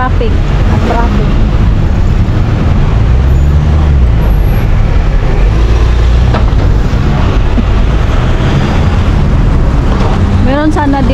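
Heavy road traffic rumbles loudly and steadily around a pedestrian in a busy street, with wind buffeting the microphone and people talking close by.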